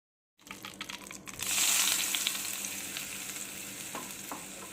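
Hot tempering poured into curd for curd vada bursts into a loud sizzle after a moment of silence, then settles into a steady crackling hiss with stirring sounds, close and without talk.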